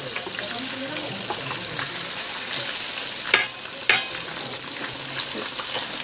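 Fish and eggplant fritters sizzling in a Niyama multi-function robot cooker, a continuous bubbling hiss of oil with a couple of sharp clatters midway and faint background voices.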